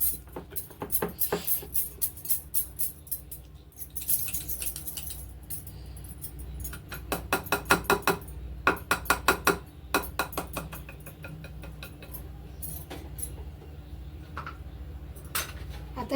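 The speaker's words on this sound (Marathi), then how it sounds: "मैदा फेटून घेऊया चांगलं" A utensil whisking flour in a bowl for chocolate cake batter, with quick bursts of metallic clinking and rattling strokes against the bowl, close and fairly crisp, pausing between rounds.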